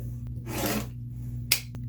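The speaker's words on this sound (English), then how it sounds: "You can use scissors, but I'm just going to use my rotary cutter." A rotary cutter slices through quilt fabric squares in one soft, brushing swipe, followed shortly by a single sharp tap, close and alone.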